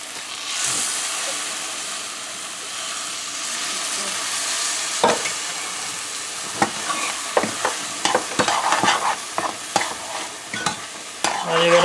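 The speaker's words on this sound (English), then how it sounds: "And you're gonna mix that in" Evaporated milk stirred into a sirnie (sweet vermicelli) mixture in a pot, a steady sizzle and hiss at first, then a run of sharp spoon knocks and scrapes against the pot in the second half, close up.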